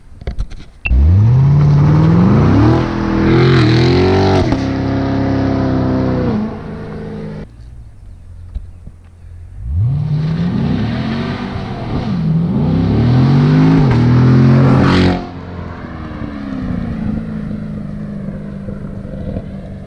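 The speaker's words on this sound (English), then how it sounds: "I think we needed to do a big old burnout." A Corvette C7 Grand Sport doing a tire burnout: loud, close engine revving in two long bursts, each climbing and falling in pitch, with a quieter idling stretch between them and a lower rumble trailing off at the end.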